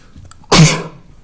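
A single sharp sneeze in a county board of commissioners meeting room, a sudden loud burst that fades over about half a second, with a quiet room before it.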